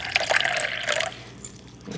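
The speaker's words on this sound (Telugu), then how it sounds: "కొంచెం కలర్ వేసుకొని ఇలా వాటర్ పోసేసుకున్నాను" Coloured water is poured into a container for a Diwali oil lamp, making a short splashing trickle that fades to quiet.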